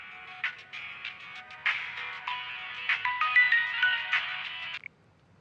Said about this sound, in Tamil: ஏய் மாப்பிள்ள ஃபோன் அடிக்குது பாரு.